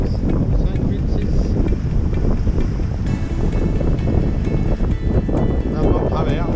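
Strong wind roaring over a sailboat crossing open sea off Cap Corse in about ten knots of breeze, a constant loud rushing with wave wash beneath and a voice speaking over it.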